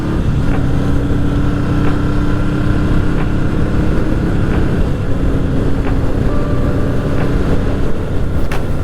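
A Yamaha XS750 motorcycle rides along in fourth gear, a steady loud engine drone mixed with rushing wind noise throughout.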